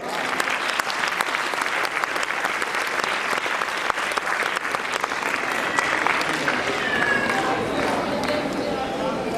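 An audience breaks into sustained applause to welcome a performer on stage at a cultural music event, a dense, steady clapping that fills the hall, with a voice speaking over it.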